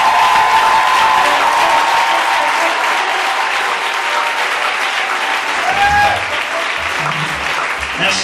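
A church congregation applauds and cheers in a hall, with loud, steady sustained clapping throughout and voices rising under it toward the end.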